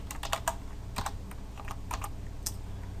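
Close, quiet computer keyboard typing while JavaScript code is entered, with quick bursts of keystrokes separated by short pauses and a faint hum underneath.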